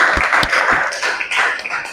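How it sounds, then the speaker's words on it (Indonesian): Classroom students clap for their classmates, a short burst of fairly close, uneven handclaps with separate sharp hits standing out in a loose rhythm, without talk. "Beri tepuk tangan untuk teman kalian."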